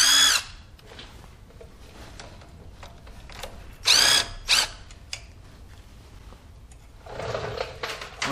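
Power drill with a 10 millimeter socket working the ABS line bracket bolts on a Silverado, giving short whirring bursts near the start, middle and end with quieter gaps between.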